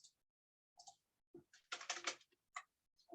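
Fingers typing on a computer keyboard while entering WordPress login details, short bursts of crisp key clicks separated by pauses, close and quiet.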